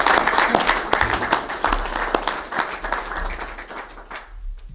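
Audience applause fills a news conference about the developer of The Landing, a dense burst of many hands clapping at once, holding steady and loud before thinning toward the end.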